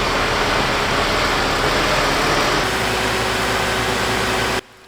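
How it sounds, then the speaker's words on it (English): A concrete mixer truck pulls in with its engine running in a steady, loud, low rumble that carries on unbroken. The rumble shifts slightly partway through and then cuts off abruptly just before the end. "Here is the mixer just pulling in the top right of the picture now."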